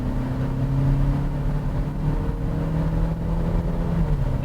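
A turbocharged 2016 Chevy Malibu launching hard, a steady low engine drone held at moderate loudness as the car pulls away, with no voices.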